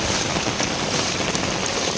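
Rain falls hard on a flooded village road, a loud, close, unbroken hiss of drops spattering on water and surfaces, with no voices.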